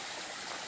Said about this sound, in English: we've got a little creek going over it, which is very beautiful